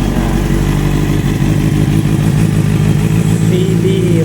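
A 2014 Honda CB650F motorcycle's inline-four engine rumbles loudly and continuously up close, idling with a throaty, slightly uneven pulse.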